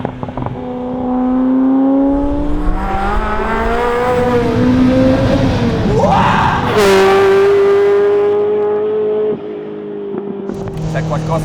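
Ferrari F40 supercar with catalytic converter, its engine droning steadily while driving, pitch rising and falling with a brief surge of revs midway; a person talks over it throughout.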